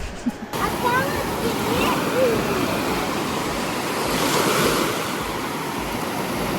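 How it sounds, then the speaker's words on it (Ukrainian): Sea waves surge and break continuously on a beach at Pineto on Italy's Adriatic coast, a steady close wash of surf with wind buffeting the microphone throughout. "от хвилі бушують, бушують хвилі"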